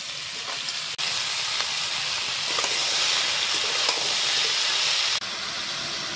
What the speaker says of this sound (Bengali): এবার দিয়ে দিচ্ছি কুমড়ো কুচি।